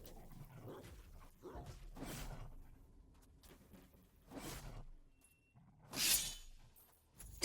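A dog enemy in the fantasy soulslike game Tyrants Realm barks and snarls in separate short bursts against quiet surroundings, with a harsher, louder hit near the end.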